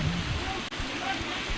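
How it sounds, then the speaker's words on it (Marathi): Heavy rain falling on a local cricket match: a dense, steady hiss fills the whole moment, with voices faintly present beneath it. "खूप पाऊस चालू आहे."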